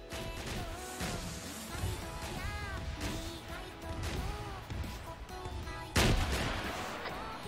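Arma 3 gunfire aimed at an armored vehicle: repeated booming shots and impacts over a dense, rumbling battlefield mix, with a louder, heavier blast near the end.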